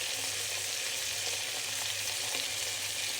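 Beef steak seasoned with salt and pepper frying in a pan, a steady bright sizzle with crackling hiss, close and continuous without talk.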